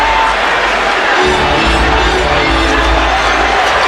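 Loud, dense roar of a basketball arena crowd cheering during a Kobe Bryant game, a continuous wash of voices that swells slightly and holds steady throughout.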